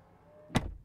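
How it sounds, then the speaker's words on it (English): A BMW i7 xDrive60 door closing automatically ends in a single soft, solid thud after a quiet motorized lead-in, heard close and alone. "I can just step on the brake, which will close the door automatically"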